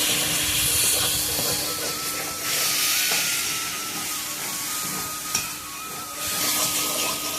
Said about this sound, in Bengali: মশলাটার সাথে খুব ভালোভাবে ভাজা হয়ে গেছে